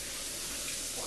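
A kitchen tap runs steadily for a brief moment while hands are washed, a close, even hiss of flowing water with no other sounds.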